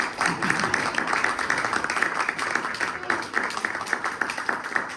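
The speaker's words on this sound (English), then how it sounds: "All right, applause right now" Audience clapping at an Assembly District 79 candidate forum, a sustained patter of many hands at fairly even loudness, with some murmur of voices mixed in.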